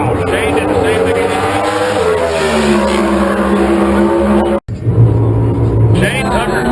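A Pro Stock drag racing car screams through NHRA qualifying at the CarQuest Nationals in Phoenix, a loud close engine wail climbing through gear changes with a brief cut, while a track announcer talks over it.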